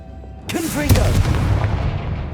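A Confringo fire-blast spell bursts in Hogwarts Legacy with a sudden loud boom, followed by a rumbling crackle that slowly fades, while a voice briefly calls out underneath.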